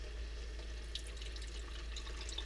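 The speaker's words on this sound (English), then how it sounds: "Then I add a bit of water." Water trickling steadily into a pot of thick beef curry, a soft continuous pour with faint splashy detail, quiet and alone.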